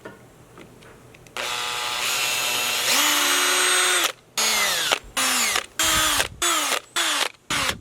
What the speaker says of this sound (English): let's drill these in then